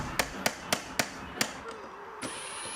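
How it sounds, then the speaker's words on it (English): Five sharp hammer strikes drive a plug through timber into a block in a quick, even rhythm, close by, then the work stops and a faint high whine remains. "hit it through the timber into the block with a hammer"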